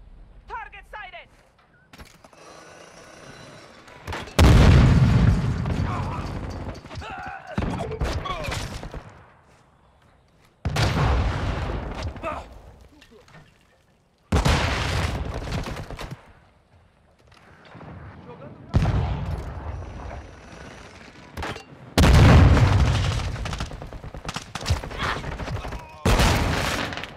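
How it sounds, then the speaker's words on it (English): Cruise missile strikes explode in a Call of Duty match on PS5 as a series of heavy booming blasts with rumbling tails, spaced several seconds apart, mixed with intermittent gunfire and game voice lines. "Friendly cruise missile approaching target."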